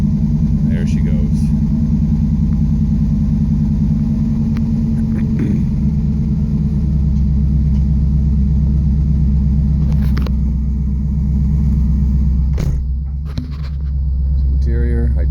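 A 1988 Pontiac GTA with the 5.7 TPI V8 and five-speed idling right after starting, a steady low rumble close by with brief clicks and handling noises.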